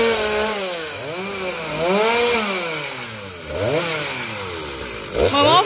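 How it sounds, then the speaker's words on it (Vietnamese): A chainsaw cutting a large breadfruit tree revs up and down through several cutting passes, its loud buzzing engine rising and falling in pitch close by. "Bữa nay chú Chiến ra tay cưa thử cho quý vị"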